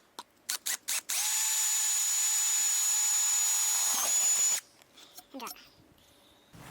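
A power drill with a 6.5mm bit whines steadily through a hole for a Suzuki DR650 fender brace after a few short trigger bursts, stopping abruptly, followed by faint clicks and handling noises.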